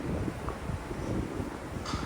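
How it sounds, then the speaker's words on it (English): Steady wind gusts buffet the microphone on the open upper deck of a Disney cruise ship, a continuous low rushing roar with no voices. "It's pretty windy."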